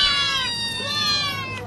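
Long-haired British cats in a cat cafe meow continuously, with several overlapping clear cries close by and no talk.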